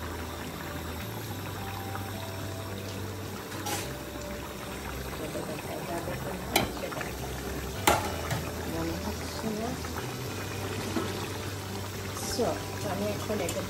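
Spices are sautéed in a pan with a soft, low sizzle and bubbling, punctuated by a few sharp clinks of a spoon against the pan, under a steady low hum.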